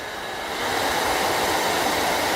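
A Zephyros dust collector running at full speed, giving a steady, loud broadband roar that swells up in the first half second and then holds constant, with no talking.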